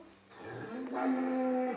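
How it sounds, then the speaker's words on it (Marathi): A single cow moos nearby, a low rising call that swells and holds for over a second. "नवीन जाग्यावर गाय लागलेली आहे वरडायला"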